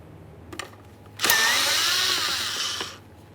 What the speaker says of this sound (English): we're going to remove 2 7mm headed mounting bolts